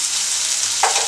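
Chopped onion fries in a pan for a mushroom Manchurian, a steady, bright sizzle up close with a brief stirring scrape near the end.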